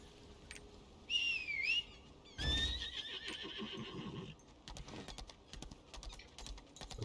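A horse in the video game Lost Ark neighs loudly over game music and a steady run, with hooves and other game effects continuing underneath.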